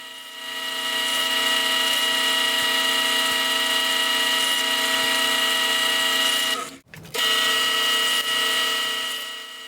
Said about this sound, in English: Here I'm drilling the pilot holes with a combination drill and countersink bit.